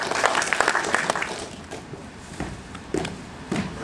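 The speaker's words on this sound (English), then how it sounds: "Yes, round of applause." An audience at a classic gaming expo panel breaks into applause, a dense burst of clapping that thins out and then flares in a few scattered loud claps.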